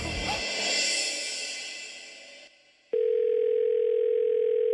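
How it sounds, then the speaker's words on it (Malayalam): In a Malayalam TV serial scene, a swelling wash of noise fades out and a steady electronic telephone tone starts abruptly and holds, loud and unbroken, with no talking. "ഈ ഫോൺ അടിക്കുന്നല്ലോ."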